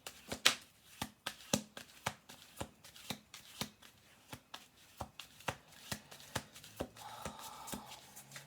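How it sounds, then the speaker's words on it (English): A deck of playing cards is riffled in a steady run of crisp, close shuffles, one burst after another with short pauses between. "I'm going to do 2 more shuffles after this."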